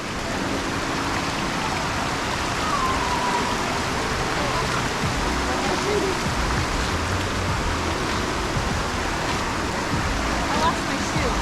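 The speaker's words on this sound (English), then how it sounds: "That's the river." Rushing water of a cold river flows continuously nearby on the trail to Zapata Falls, Colorado, a dense broadband wash like a river over rocks, with faint voices briefly audible beneath it.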